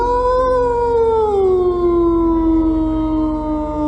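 A wolf gives one long, loud howl that starts high, slides down in pitch and holds a steady, drawn-out tone to the end, with nothing else heard.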